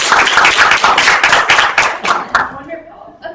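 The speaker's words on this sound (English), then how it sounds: "please clap if you're a student and you're here with us tonight" Students in the audience at a UNC Duke primary care town hall clap in a lively burst that thins and dies away after a few seconds, ending in a handful of scattered claps.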